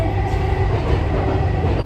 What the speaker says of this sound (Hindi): मेट्रो के अंदर